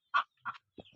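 A few chickens cluck close by in short, separate bursts, three quick clucks spaced across a second, fairly faint against quiet surroundings.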